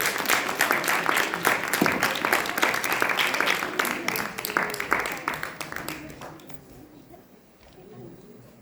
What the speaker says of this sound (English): it's a party, let's give a round of applause